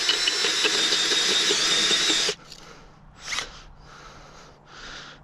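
A trusty old powered auger drilling planting holes whines loudly and steadily for about two seconds, then cuts off abruptly, leaving a few quieter scraping bursts.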